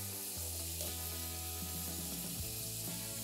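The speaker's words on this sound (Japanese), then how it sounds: "では、玉ねぎを切って入れていきます。" Sliced onions sizzle in a pan with potatoes for German-style pan-fried potatoes, giving a steady, moderate frying hiss that runs throughout beneath tonal background music.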